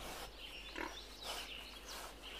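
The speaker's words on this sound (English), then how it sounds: "There is a mother pig and 5 baby pigs." Pigs in a farm pen, a mother sow with five piglets, give soft, faint grunts and small squeals scattered over a steady low background hiss.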